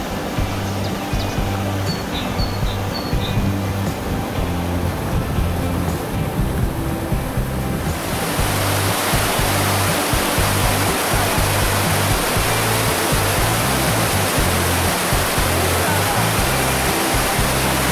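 Powerful karst spring at Perućac, fed by rain from the Tara plateau, gushing about 330 litres per second; a loud, steady broadband roar of rushing water that swells after the first half and continues unbroken throughout.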